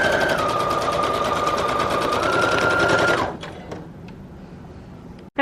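Sewing machine running continuously while stitching back-and-forth lines across a fabric collage tag, a steady loud mechanical whir for about three seconds that stops abruptly, leaving quiet handling noises and a brief clunk at the end.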